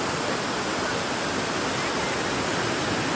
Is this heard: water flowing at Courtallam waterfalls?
yes